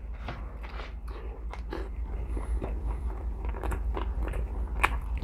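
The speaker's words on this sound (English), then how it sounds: "The lettuce is kind of crunchy." Close, crisp crunching and chewing as someone bites into a McDonald's Quarter Pounder with added crunchy lettuce, steady wet munching throughout with no talking.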